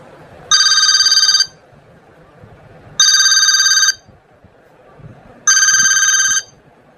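A telephone rings three times in a regular pattern, each electronic trill lasting about a second, separated by short pauses over quiet background.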